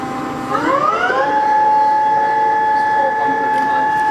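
Southwestern Industries TRAK TRL1840SX CNC teach lathe spindle spinning up to 1200 RPM in high range on its two-speed headstock, a rising whine that settles into a steady, loud tonal hum with background noise.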